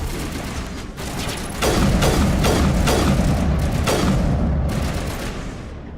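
Gunfire in the Mass Effect Legendary Edition video game. A burst of weapon shots, followed by several loud, sharp cracks with booming tails in quick succession, over a constant loud combat backdrop without speech.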